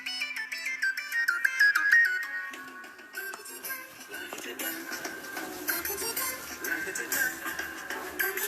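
A telephone ringtone plays a bright electronic melody close by for several seconds during a lockdown quiz game, with tones rising and shifting and no talk over it.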